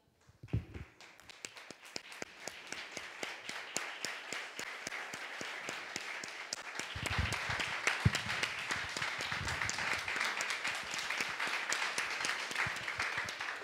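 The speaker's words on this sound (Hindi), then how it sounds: "आपण टाळ्या वाजवून त्यांचं स्वागत करूया" A church congregation claps to welcome the pastor at an evening Pentecostal service, the applause starting sparse and quickly building into dense, sustained clapping that grows louder toward the end, with faint voices mixed in.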